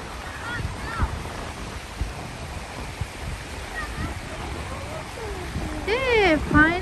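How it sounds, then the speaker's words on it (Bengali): Waves roll in on a shore in a steady washing rush mixed with wind buffeting the microphone, while a voice talks over it and brief whistle-like tones rise near the end. "ঢেউ আসছে।"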